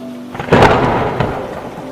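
Thunder cracks loudly over steady heavy rain, a story sound effect set on a muddy village road: a sharp broadband clap swells into a rolling rumble, with a second smaller boom after, and the downpour hissing throughout. No one speaks.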